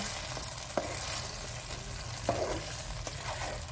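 Chicken sizzles and fries in a pan with a steady hiss, broken by a couple of sharp stirring clacks against the pan, no voices.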